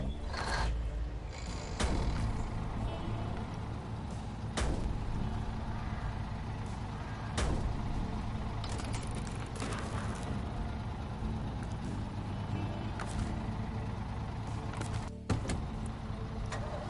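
A heavy truck in SnowRunner runs in high gear with a steady, loud diesel engine drone and rumbling drivetrain, marked by occasional knocks and clunks over rough terrain.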